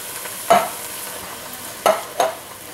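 Canned petite diced tomatoes for chili with beans drop into a hot pan over medium-high heat, with three scraping, sizzling stirs over a quiet sizzling background and no voices.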